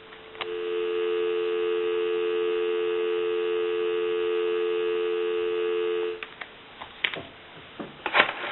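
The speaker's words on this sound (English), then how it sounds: "I'll give you some dial tone." A repaired Northern Telecom telephone gives a steady, continuous dial tone for about six seconds before it cuts off, followed by a few faint clicks and handling noises.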